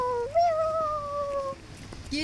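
A cat meows in a long, drawn-out wavering cry that slides up and then slowly falls, close and clear, with a shorter call at the end and light ambient noise around it.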